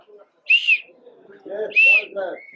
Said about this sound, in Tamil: இதில் வந்து விசில் இருக்குது.